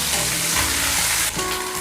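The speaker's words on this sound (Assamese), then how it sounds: "এতিয়া মাছবোৰ ফ্ৰাই কৰিব দি দিলো" Small Morola fish fry in hot oil over a high flame, giving a loud, steady, close hiss and crackle with a brief dip before the sizzle surges again.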